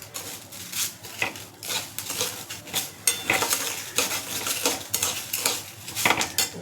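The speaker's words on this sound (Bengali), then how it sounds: "তাই ডালটা ভালো করে ভেজে নিচ্ছি।" Moong dal roasting in a pan for a bottle gourd dal, stirred with a metal utensil: repeated close scraping and clinking of metal against the pan in an irregular rhythm, with no voices.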